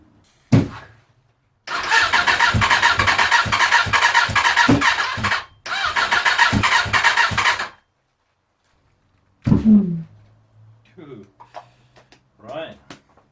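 A Suzuki GSX750F motorcycle, stored for three years, cranks with a brief burst, then roars for several seconds, cuts out briefly, revs again and stops, followed by scattered clanks and a low hum.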